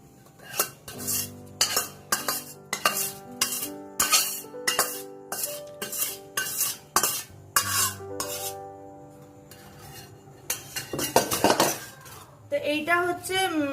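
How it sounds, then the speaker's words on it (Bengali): A ladle stirs idli batter in a bowl, with a tempering of oil, curry leaves and mustard seeds, striking the metal sides in a steady run of sharp clinks and scrapes, then a brief faster rattle near the end. "এবার এটা হচ্ছে এই ব্যাটারটার মধ্যে দিয়ে ভালো করে এই হাতা দিয়ে ভালো করে মিশিয়ে নেব"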